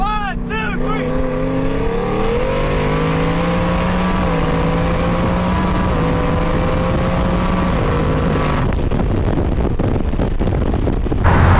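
Two 2018 Mustang GTs, one single-turbo and one twin-turbo, accelerate hard side by side in a race, loud engines rising in pitch through the gears with a brief shift drop near the end.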